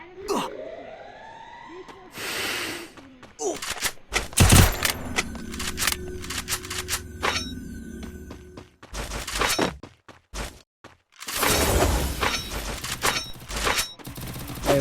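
Video game gunfire crackles in bursts and rapid volleys near a factory, with sirens wailing and a player talking over the shooting throughout.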